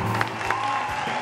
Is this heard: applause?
yes